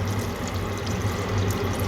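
Water poured into a pot of vegetables and beans stewing in sauce, a steady low splashing and trickling that runs close up and unbroken for about two seconds.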